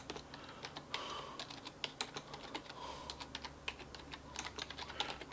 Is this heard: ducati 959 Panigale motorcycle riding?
no